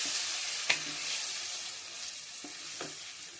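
Spice paste of ground spices, ginger and green chilli mixed with water, sizzling and frying steadily in a pan, with a few sharp clicks of stirring against the metal, close and fairly quiet, no talk.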